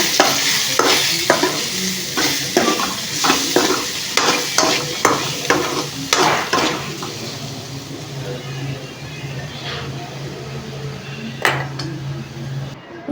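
Sesame seeds, green chillies and garlic sizzle in a pan, with steady frying hiss under repeated rhythmic scraping and stirring strokes, close and loud, easing toward the end.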